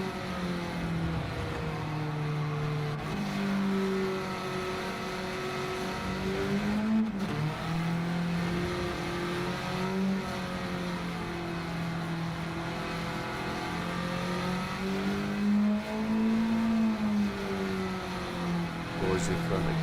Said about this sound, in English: We're not really driving the engine like it should be driven with the low boost turbo.